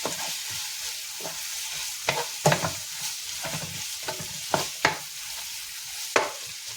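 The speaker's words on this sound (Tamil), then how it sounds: "நம்ம இதை வந்து நல்லா வந்து வதக்கணுங்க" Tomatoes sauté in a pan, with a spoon scraping and stirring in irregular strokes over a soft continuous sizzle; no one speaks.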